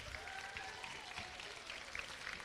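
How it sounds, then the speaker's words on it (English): Faint, distant applause from an audience at a high school awards ceremony for a student honored in English, a steady patter of clapping throughout. "let's give her a round of applause"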